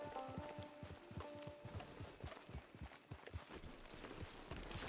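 Horse hooves clip-clop steadily at a walking-to-trotting pace in Red Dead Redemption 2, with distinct, fairly close hoofbeats repeating across the whole stretch over a low, soft game ambience.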